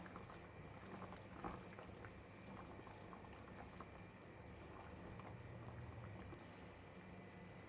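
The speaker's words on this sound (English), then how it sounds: "I have added the meatball into the vigorously boiling soup." Homemade meatball soup with hairy gourd bubbles vigorously in a covered pot, a steady close rumbling boil with soft liquid patter that continues evenly throughout.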